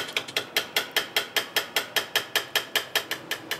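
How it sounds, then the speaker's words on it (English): Neptune 500 Series diaphragm pump purging accumulated gas, a loud rapid mechanical clacking of regular strokes, about five per second, steady and close with nothing else heard. "You can hear the pump get louder."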